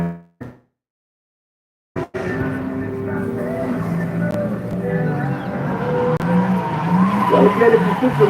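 Drift car skidding with squealing tires at Oakburn Park motorsports complex in NSW, Australia, during an open practice day; a loud, sustained engine roar and tire screech build steadily after a brief silence, with commentary over the top.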